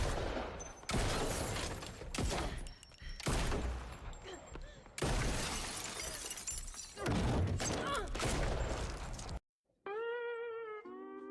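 Rapid gunfire and shattering bursts from the Halloween Kills film come in loud repeated volleys with brief gaps, followed by a short voiced line at the end.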